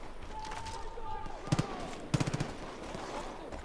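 Gunfire in Far Cry New Dawn, with two short bursts of rapid automatic shots, close and punchy, over low ambient game noise and a faint high tone.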